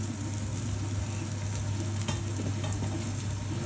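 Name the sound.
onions added to hot pan with browned meat, sizzling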